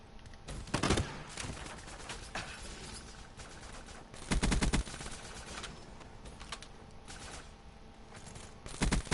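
Gunfire in Call of Duty: Black Ops 3, with sharp broadband shots in short bursts near 1, 4.5 and 9 seconds over a low steady game background and no speech.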